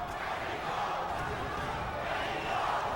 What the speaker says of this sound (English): The chants of Mexico ringing out from the crowd.